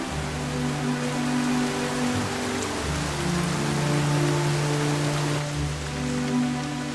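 Steady rain falling in the Amazon forest, a dense even hiss of drops on leaves and surfaces, close and continuous, with a low rumbling hum beneath it.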